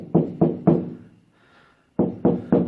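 Knuckle knocks on a sound-deadened Volkswagen body metal panel, dull thuds in two groups of three, close and loud, with a short quiet gap between them.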